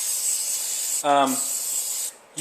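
Aerosol cleaner hisses in long continuous bursts onto Hornady reloading dies, pausing briefly as a voice speaks between sprays.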